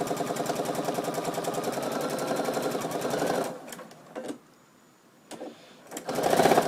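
A sewing machine stitches a dish towel in a steady, close run for about three seconds, then stops. A few short bursts follow as it backstitches, and it ends with another brief run of stitching.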